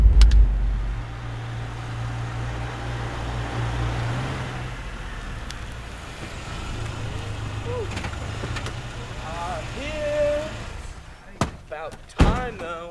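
A car drives along with a low steady engine rumble for the first few seconds, followed by thuds like a door slamming and brief vocal sounds near the end.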